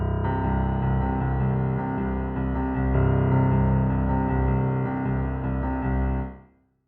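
Piano plays the opening of a song in a straight, even rhythm, full chords sustaining for several seconds before fading quickly to silence, solo with no voice.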